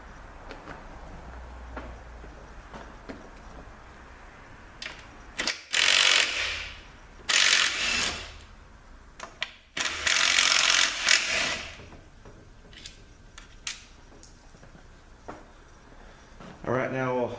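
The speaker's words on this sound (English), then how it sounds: "we're going to unbolt the output speed sensor. Let's get the bolt out of here." Bolts come out of a ZF8HP90 transmission during a teardown, with several bursts of a ratchet clicking close by among quieter metallic handling noises.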